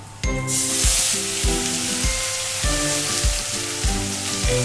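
Garlic paste drops into hot oil and bursts into a loud, continuous sizzle that holds steady alone, with some low background music underneath.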